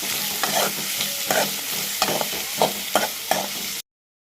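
Shallots and garlic fry in oil for a Kerala-style mutton roast, with rhythmic stirring strokes over a loud, steady sizzle, close up, ending abruptly with no voices.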